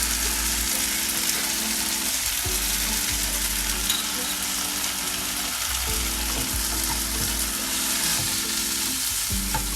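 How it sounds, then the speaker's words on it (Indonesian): Two spoons of wheat flour cook in a pan over low heat as the base for a homemade steak sauce, giving a steady close sizzle with the scrape of stirring at regular intervals and no talk. "dengan api kecil aku memasukin 2 sendok tepung terigu"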